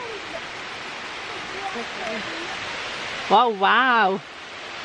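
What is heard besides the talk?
rain falling outside while glamping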